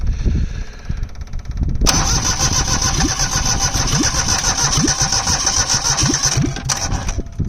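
A Perkins 103-10 diesel engine in a Cushman Truckster cranks briefly, then catches and settles into a loud, steady, clattering run close by, with rhythmic knocking pulses throughout.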